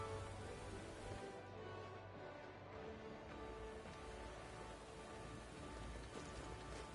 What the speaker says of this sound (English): Ooh, very rainy.